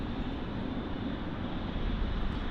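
A United Airlines Boeing 777-300ER taxis out toward runway 08 left at Munich Airport, giving off a steady, even, low engine rumble with broadband roar and light wind noise, held constant throughout with no voices.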